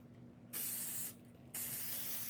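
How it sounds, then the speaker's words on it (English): Two hissing bursts from an aerosol can spraying primer onto a metal van grille, about half a second apart, close and loud, with a short pause between them. "We're just going to start with a light spray along the back side."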